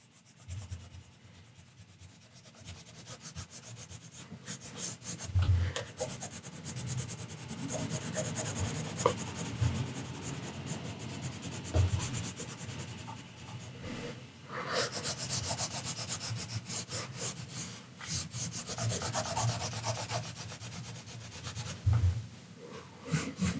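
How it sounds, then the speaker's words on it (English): The side of a watercolour pencil rubs steadily across paper during drawing, a continuous close scratchy shading sound in long strokes with brief pauses, growing louder in the middle and later passages. "I'm using the side of the pencil, because in a way now while I'm drawing, I'm also sharpening it"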